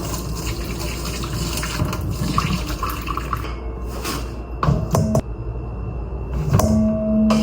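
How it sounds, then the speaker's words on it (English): Water sloshes and trickles as hot sweet potatoes are set into a bowl of cold water, a steady close wet rustle with a few sharper splashes and clinks near the end. "So I'm going to put it in a bowl of cold water so it can cool down by the time that I'm done eating."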